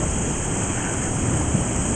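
Water flowing into a pool outdoors, a steady broadband rush close to the microphone with some low wind buffeting and no pauses or talk.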